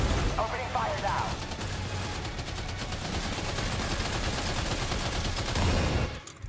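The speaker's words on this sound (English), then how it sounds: "Opening fire now." Sustained gunfire in the video game Death Stranding 2, a dense continuous burst of rapid shots lasting several seconds, loud and close, with a voice briefly talking early on.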